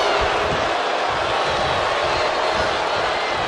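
Wrestling arena crowd in the WWE 2K24 video game: a steady, dense roar of many voices filling the whole stretch, loud and continuous with no distinct breaks or cheers standing out.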